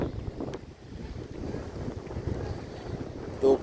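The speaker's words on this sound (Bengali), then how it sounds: "বাতাস।" Wind rushes across an open space beside a cleaned pond, buffeting the microphone in a steady low rumble that swells and eases, ending in a brief louder gust.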